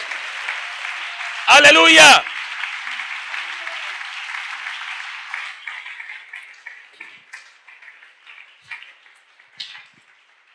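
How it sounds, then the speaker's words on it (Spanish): A church congregation applauds loudly in a short, dense burst of clapping, then the applause thins into scattered claps as a preacher speaks over it. "¿Cuántos aplauden a Jesucristo en este momento?"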